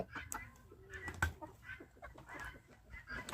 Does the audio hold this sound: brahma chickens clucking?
yes